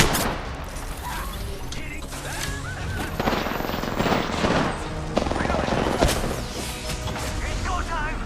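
Gunfire during an Apex Legends match, rapid overlapping shots and mechanical clatter packed together continuously at high intensity, with voices calling out over the chaotic exchange.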